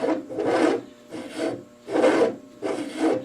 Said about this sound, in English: Human powered lathe here. Taking very light cuts.